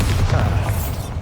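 A Bombarda blasting spell goes off in the video game Hogwarts Legacy, a loud, deep, rumbling explosion that sustains for over a second before cutting off, with no talk over it.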